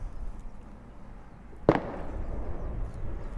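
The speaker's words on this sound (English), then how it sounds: "those gunshots are still loud as shit" A single sharp gunshot cracks out once, moderately loud, followed by a lingering rumble and echo over low background noise, in Miyazaki, Japan.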